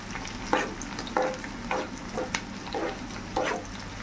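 Spices fry in a pan as a spoon stirs them. Scraping strokes recur about every half second to a second over a steady sizzle.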